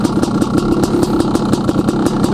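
A Honda CR500AF two-stroke dirt bike engine runs close by at a steady, throbbing idle with rapid, regular pulses and a slight rise in revs, loud and alone.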